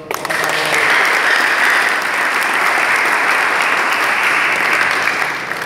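Loud, dense applause fills a hall after a theater performance, a sustained wash of many hands clapping steadily for several seconds without pause.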